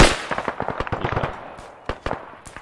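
Gunfire in the military simulation game Arma 3 on a milsim server: rapid, close automatic bursts rattle in dense rhythmic volleys, thinning into a few spaced single shots toward the end.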